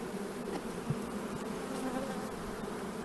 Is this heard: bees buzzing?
yes